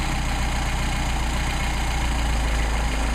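A Mercedes 190SL engine with Solex carburetors idles steadily and close by, a low rumbling pulse that sags slightly as the idle adjustment is turned, with no voices over it.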